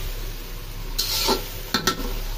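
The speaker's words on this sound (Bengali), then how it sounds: "কড়াই ভর্তি মাছগুলো এখন আমি দিয়ে দিব কষানো ঝোলে" Small fish are tipped into a wok of spicy, well-fried masala gravy, giving a close, steady sizzle broken by two or three sharp bursts of stirring and splashing.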